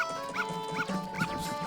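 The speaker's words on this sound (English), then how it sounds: "but this dog... Ah!" A dog in The Legend of Zelda: Majora's Mask gives three quick, evenly spaced yips or barks over steady game music, close and clear.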